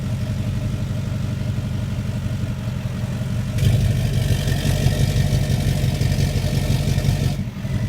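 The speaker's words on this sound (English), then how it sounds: "show you an exhaust clip of what it actually sounds like" A 2020 Duramax diesel truck with a 5-inch straight pipe exhaust rumbles at a steady deep idle, then the drone grows louder and rougher midway and holds there near the microphone.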